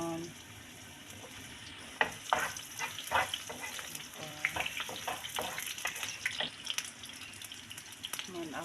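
Onion sautéing in cooking oil in a pan, a steady frying hiss with intermittent sharper sizzles and stirring clicks, close and moderately loud with no talk.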